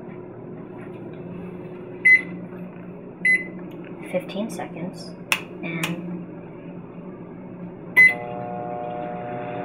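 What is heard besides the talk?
microwave oven running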